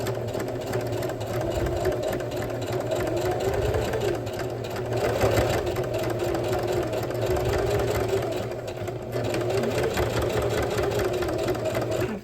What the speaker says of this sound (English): I've got my stitch length set to the longest possible setting, and I'm ready to sew along the edge here.